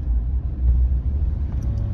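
A truck engine rolls along in a lower gear after a downshift, a deep, steady low rumble close by that swells slightly midway, with no talking.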